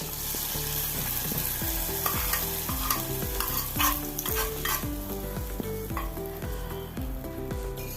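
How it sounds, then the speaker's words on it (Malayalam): Curry leaves sizzle in hot oil as a Kerala-style pineapple pachadi tempering is stirred, giving a steady, close crackle throughout with music playing underneath. "രണ്ട് കണ്ട് കരിയേപ്പില ചേർത്ത് കൊടുത്ത് ഒന്ന് ഇളക്കി കൊടുക്കാം"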